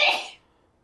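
A single short, sharp sneeze, a bright burst that fades within a fraction of a second into near silence.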